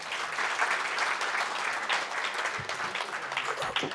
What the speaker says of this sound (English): also not here, but also worth a clap